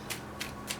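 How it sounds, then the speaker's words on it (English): Three crisp, evenly spaced bursts of tarot cards being shuffled, close by in a quiet room. "I'm buying time. To shuffle for you guys"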